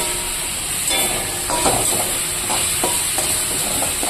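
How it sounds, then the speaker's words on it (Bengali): Water spinach (kalmi shak) frying in a pan gives a loud, continuous sizzle and hiss, broken by a few soft stirring scrapes. "তো দেখো কলমি শাকটা ভাজা মোটামুটি হয়ে এসছে"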